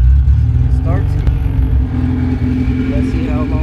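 A Honda Civic with a swapped H2B engine runs steadily and loud up close, its low rumble continuous throughout with faint rising tones.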